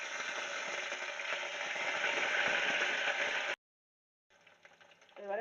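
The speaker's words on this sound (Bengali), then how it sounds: "চিনিটা লাল লাল হয়ে গেলে আদা লঙ্কা বাটা দিয়ে দিলাম।" Ginger-chili paste frying in hot oil with caramelized sugar gives a loud, steady sizzle close by for a few seconds, then it cuts off abruptly and fainter pan noise and voice-like sounds return.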